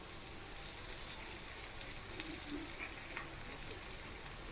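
Slices of elephant yam fry crisp in oil on a low flame, a soft continuous crackling sizzle with small pops, close and fairly quiet, no talking.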